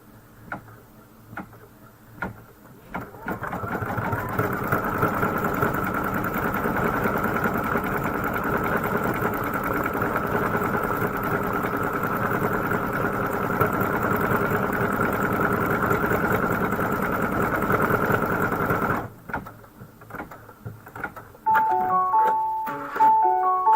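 An embroidery sewing machine stitching out a flower design runs in a steady, fast mechanical rattle for most of the stretch, bracketed by softer ticking starts and stops, close and alone.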